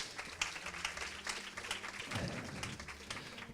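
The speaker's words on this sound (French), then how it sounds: "Merci beaucoup Cédric, qu'on peut applaudir." A small audience applauds a speaker at a social innovation event, faint and somewhat distant, with scattered claps over a low room hum and a brief low rumble partway through.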